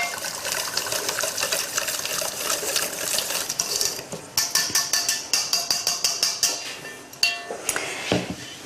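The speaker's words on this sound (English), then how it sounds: "So I'm going to whisk the yolks over here into the mixture." Wire whisk beating egg yolks and grated cheese into a cheese soufflé mixture in a bowl, a rapid run of close, crisp metallic clicks and taps that turns into distinct rhythmic strokes near the end.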